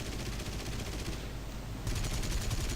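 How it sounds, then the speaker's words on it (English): Aircraft machine guns in War Thunder fire in a dense, continuous rattling stream that rises sharply louder partway through, with no talk over it. "this thing actually has normal machine guns"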